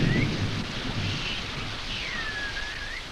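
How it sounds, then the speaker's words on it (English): Heavy tropical rain pours in a dense, loud, continuous roar, with a low rumble of thunder at the start and nobody speaking. "In the tropics, rain comes swiftly and heavily, and streams may flood in a flash."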